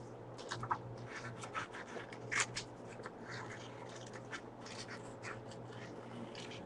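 Paper being cut out with scissors, a series of short crisp snips and rustles at close range, scattered irregularly over a steady low hum, with no one talking.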